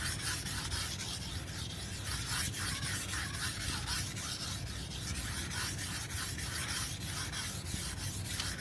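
Single-bevel kitchen knife is pushed back and forth across a sharpening stone in steady, repeated rasping strokes, close and fairly loud, with no voices.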